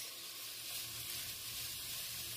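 Peppers sauté in a pan with a faint, even sizzle that holds steady throughout without breaks.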